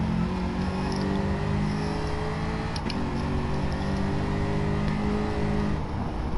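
Race cars in an FIA manufacturer practice session on a racing video game, with R2-class cars passing by, give out a steady, loud engine drone with shifting pitch throughout.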